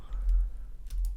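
Ctrl+T pressed on a computer keyboard, a couple of quick, dull key clicks heard close up in a short burst, without talk.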